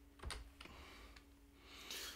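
A few sharp, quiet computer keyboard keystrokes while code is typed, separated by pauses over a steady low hum.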